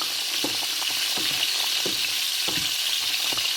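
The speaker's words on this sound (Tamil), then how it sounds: "கொஞ்சம் வெங்காயம் அவியணும்." Onions fry in a pan with a steady, close sizzle, broken by occasional scraping stir strokes, with no voices.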